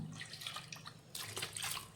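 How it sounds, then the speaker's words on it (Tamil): Water splashes and gurgles in short bursts, then a fuller pour into a washed bowl toward the end, close by and fairly quiet, while cooking anchovy fish curry. "இப்போ அது கழுவி நான் தண்ணியே இதில் ஊற்றிடலாம்"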